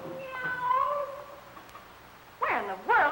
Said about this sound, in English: Where in the world is that cat?